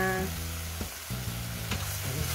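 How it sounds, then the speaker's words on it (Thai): Instant noodles stir-frying with mussels and chilies in a hot pan give off a continuous close sizzle, with a few sharp stirring scrapes and knocks as everything is tossed together. "ทุกอย่างก็คลุกเคล้าคลุกเคล้านะคะ"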